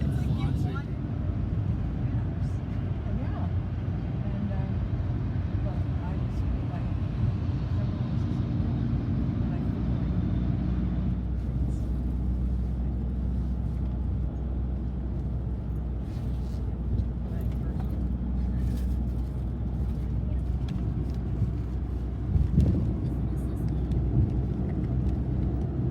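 A car on a long drive back to Paris from the countryside on a stormy day gives a steady, loud low engine and road rumble that continues throughout without letup.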